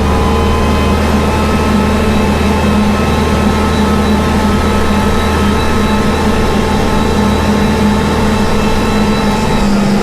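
A Kubota tractor engine climbs a hill in fourth gear, a loud, steady low drone with a constant hum and no breaks. No one speaks over it.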